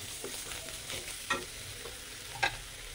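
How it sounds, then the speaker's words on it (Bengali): Fish and potato chop filling cooks with spices in a hot pan, a soft steady sizzle of frying under a few distinct scraping strokes of a stirring utensil, close and moderately quiet, with no talk. "আলু আর মাছগুলোকে দিয়ে ভালো করে কষে নিব।"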